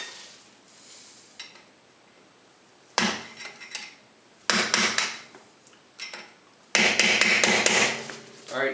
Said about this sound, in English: I'm just going to use a screwdriver and a pry bar to slam it in.